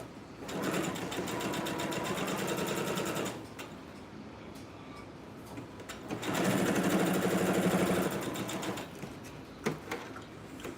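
A sewing machine stitches blouse fabric, running loud and close in two sustained bursts with a quieter pause between them.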